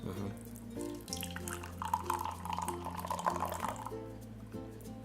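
Fresh green vegetable juice pours steadily into a container with a gurgling, splashing stream close by, faintly rising in pitch as it fills.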